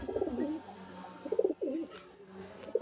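A pigeon coos close by in a few soft, throaty, rolling phrases separated by short pauses, with faint background noise.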